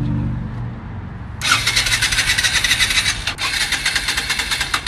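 Engine of a retro tow truck cranking over as it tries to start, a rapid rhythmic churning that kicks in after a low idle-like rumble, loud and close.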